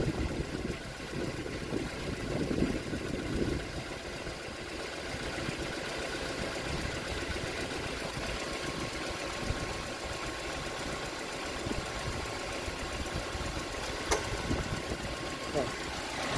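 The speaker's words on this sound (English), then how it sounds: "here the compressor started to turn on" Car engine idling steadily while the air-conditioning compressor engages during a refrigerant recharge, a constant mid-pitched hum with faint clicks, heard up close.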